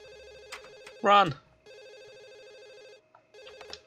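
Telephone ringing in The Sims video game, a repeated electronic warbling ring in short trilling bursts separated by pauses, interrupted once by a loud shouted voice.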